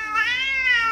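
A single close, clear cat meow, drawn out and tonal, lasting under a second.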